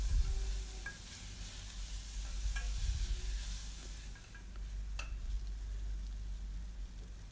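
Onion, green chili and tomato sautéing in a pan, with a soft continuous sizzle and occasional scrapes and stirring clicks from a utensil, close and fairly quiet with no talk.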